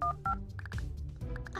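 Telephone keypad dialing in the video game Kindergarten, a quick run of clear electronic tone beeps over a low background hum, fairly faint.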